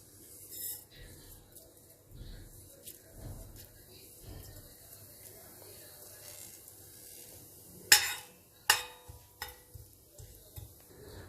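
Cumin seeds hit hot ghee in a pan, giving a soft, steady sizzle with a few sharp clinks of a utensil against the pan near the end.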